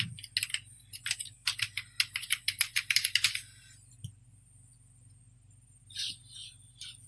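Quick bursts of keystrokes on a computer keyboard as a file name is typed, a dense run of close clicks followed by silence and a few last taps.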